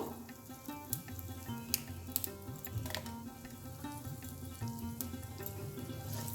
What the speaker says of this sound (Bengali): এই মাছ ভাজা তেলের মধ্যেই আমি দিয়ে দেবো দেখো কালো জিরে আর তিনটে শুকনো লঙ্কা